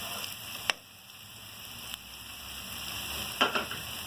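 Garlic and ginger frying in a pan make a soft, even sizzle up close, punctuated by a few sharp clicks and a brief clatter of a utensil near the end.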